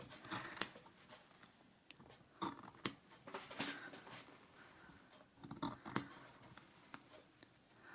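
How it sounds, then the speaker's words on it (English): Scissors snip into dress fabric up to the stitching-line thread, giving a few sharp, close, quiet cuts spaced irregularly, with soft handling rustles between them. "I've snipped to the thread"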